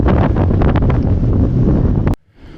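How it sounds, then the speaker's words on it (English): Chaotic breaking waves and strong wind buffet a boat on the Tasman Sea off New Zealand, a loud continuous roar and wash that cuts off abruptly near the end, leaving a quieter hiss. "The waves are incredibly chaotic."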